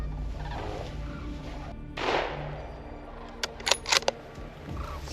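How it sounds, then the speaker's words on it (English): Gunshots fired at a bear during a hunt ring out outdoors: one loud broadband blast near two seconds, then a quick cluster of sharp cracks around three and a half to four seconds over a steady background hum. "Shoot him again."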